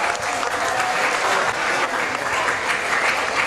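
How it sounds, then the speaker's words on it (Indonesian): Audience applause for the quiz teams at a provincial Qur'an comprehension competition semi-final, a full continuous roar of clapping from a large hall crowd, constant and loud. "Kita berikan tepuk tangan."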